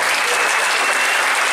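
A congregation at an Assembly of God church service claps in a dense, steady round of applause, loud and continuous with no voices standing out.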